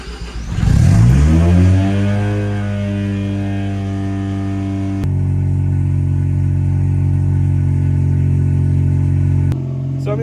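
A Mazda FC RX7 rotary engine cranks and catches, then settles into a steady, loud idle with a strong low droning hum, shifting slightly in tone partway through before a brief cut near the end.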